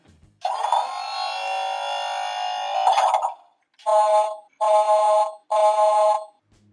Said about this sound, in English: This is a lights and sounds bulldozer.